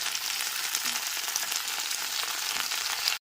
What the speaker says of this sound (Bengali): তেলটা খুব ভালো মতো গরম হয়ে গেলে পরে কেটে রাখা সিমগুলোকে দিয়ে দিচ্ছি এইবার সিমগুলোকে ভেজে নিতে হবে